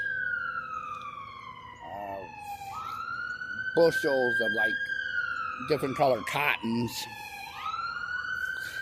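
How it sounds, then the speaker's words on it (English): A wailing police siren rises and falls continuously in the background while a person talks over it. "You can hear all the sirens and police going."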